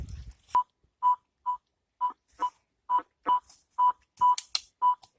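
A Rutus Alter 71 or Fortuna M3 metal detector sounds a series of short, clear electronic beeps, about two per second, repeating steadily with faint rustling in between.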